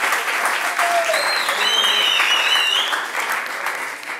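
Audience applause at a Tunisian TV talk show, a dense steady wash of clapping from a studio crowd holding level throughout with a few whistles or cheers rising over it.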